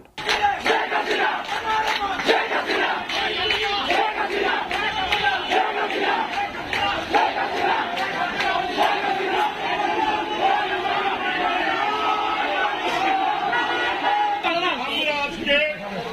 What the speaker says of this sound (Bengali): বাংলাদেশ আইনজীবী সমিতির আইনজীবীরাও শেখ হাসিনার নামে স্লোগান দিয়ে আওয়ামী লীগের নিষেধাজ্ঞার তীব্র প্রতিবাদ জানিয়েছেন